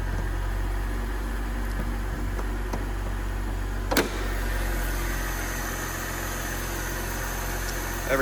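A 2008 Mercedes E-Class Sport with a 3.5L engine idles smoothly and steadily under the hood, a close, even hum with one brief click partway through.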